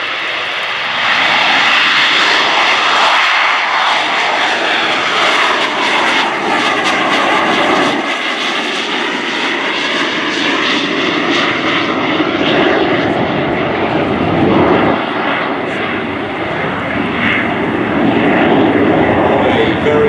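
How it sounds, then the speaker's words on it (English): An AV-8B Harrier II V/STOL combat jet rolls for takeoff at an air display, its loud engine roar sweeping and shifting in pitch as it passes, continuous and close throughout. "this incredible V-stall vertical and short takeoff and landing combat jet"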